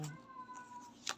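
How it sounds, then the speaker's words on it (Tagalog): A single drawn-out cat meow, close and fairly loud, followed by a brief higher squeak near the end. "May pusa po kami."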